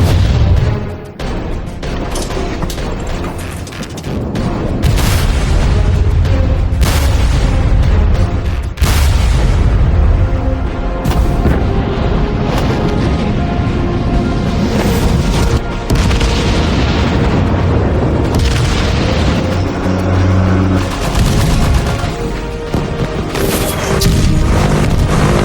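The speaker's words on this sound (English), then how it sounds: "The player makes the first shot, or the player hits the enemy ship, or the player destroys the enemy ship." Loud, continuous naval battle din from World of Warships: repeated heavy gun blasts and explosions booming over a dense layered game soundscape, with no pause.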